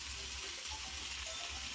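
Water pours steadily into snail curry (gēṛi jhol) cooking in a pot, a soft continuous rushing wash heard faintly throughout with no talk.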